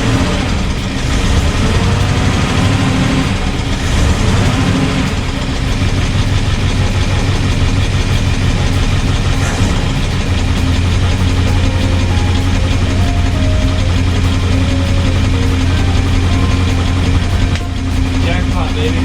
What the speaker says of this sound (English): Idling like a champ.